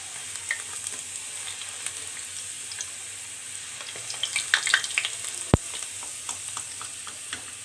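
Homemade McDonald's-style french fries crackle and sizzle steadily up close, with a faint, continuous crisp hiss and scattered small pops, plus one sharp knock near the end. No voices.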